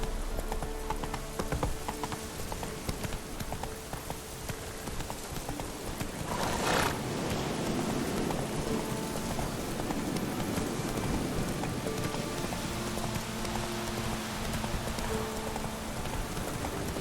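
Hoofbeats of Roach, Geralt's horse, galloping in The Witcher 3 come as a steady clip-clop rhythm through continuous rain pattering on the ground, with a brief whinny-like burst partway through.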